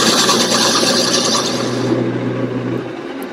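A parting tool cuts into spinning wood on a lathe, a loud, steady rasping and scraping whir that stays close and continuous before dropping away as the cut ends.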